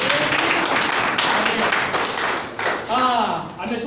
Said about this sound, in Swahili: Tupige makofi kwa Bwana Yesu.